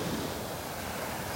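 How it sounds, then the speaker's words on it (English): Ocean waves churn on a beach in North Naples, Florida, a continuous broad wash of surf mixed with wind buffeting the microphone, steady and fairly loud, with no voices. "Water looks nice, just churned up because of the waves, but it still looks clear."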